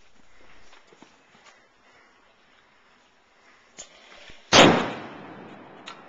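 An acetylene bomb goes off outdoors with a single sharp, loud blast that booms and decays over about a second, preceded by a smaller pop and scattered footsteps and scuffs.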